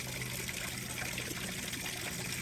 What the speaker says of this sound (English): listening to the babbling of my waterfall.